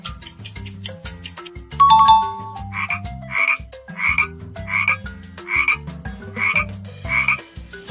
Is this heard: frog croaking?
yes